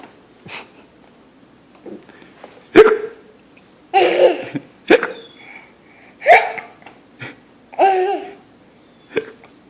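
A child hiccups repeatedly, sharp short bursts spaced a second or two apart, close and fairly loud, some breaking into giggly, babbling sounds between quieter pauses.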